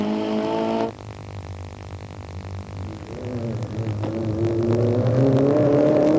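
Rally car on a 1994 Malaysian championship round, its engine note dropping abruptly then rising steadily as it accelerates through gears, a loud close whirring drone with no voices.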